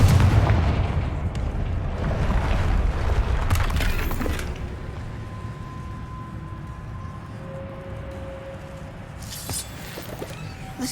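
A Confringo fire spell from Hogwarts Legacy erupts in a heavy, rumbling blast that dies away over a few seconds, followed by quieter magical tones and a further crackling burst near the end.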